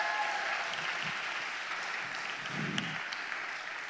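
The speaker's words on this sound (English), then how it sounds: "Give him a round of applause." Audience applause fills a ceremony hall, a steady wash of many hands clapping at moderate distance, holding evenly for several seconds.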